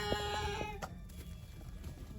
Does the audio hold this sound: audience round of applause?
no